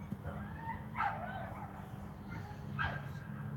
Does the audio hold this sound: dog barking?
yes